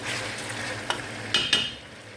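Chicken curry (salona) with carrots frying over low heat in a pan, a steady close sizzle with a few sharp scraping stirs near the end.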